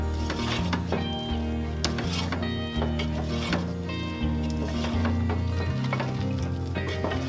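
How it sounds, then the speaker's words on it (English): Marshmallows are stirred into a hot chocolate fudge mixture in a pan, giving a steady, loud wet stirring and bubbling sizzle throughout, with a few scrapes, under continuous background music. "Put them in there and give it a couple good stirs."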